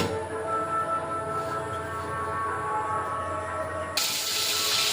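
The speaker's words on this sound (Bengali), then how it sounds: "কড়াইটা বসে মাছগুলো ভেজে নেব" Snakehead fish frying in oil in a kadai over a gas stove, giving a steady, close hiss and sizzle that grows brighter and louder near the end.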